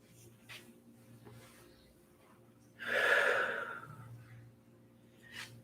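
A single deep, breathy exhale during a kundalini yoga breathing sequence, close and fairly loud, lasting about a second over a quiet room hum, with fainter breaths before and after.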